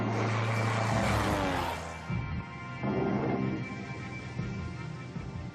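A propeller airplane flies over a hydroelectric dam in Portugal, its engine drone loud and steady at first, then fading slightly and swelling again as it passes, with no voices.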